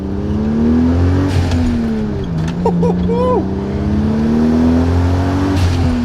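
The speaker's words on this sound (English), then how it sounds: "the way those turbos spool up is like something else, man" A 1993 Toyota Supra MKIV with a manual gearbox and 2JZ turbo engine revs loudly and steadily up close, its engine note rising and dipping as the turbos spool, while people talk over it.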